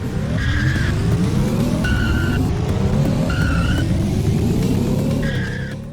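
Racing car in the retro arcade racer 80s Overdrive: a loud, steady engine drone rising repeatedly through gear shifts, with several sharp tire squeals and skids cutting in at regular intervals, no talk.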